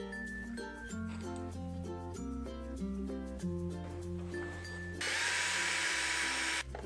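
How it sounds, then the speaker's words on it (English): An electric screw gun drives screws into the back of a Chibson Slash Appetite Les Paul copy guitar. A short whirring burst comes near the end, after a stretch of tonal notes. "I'm using an electric screw gun"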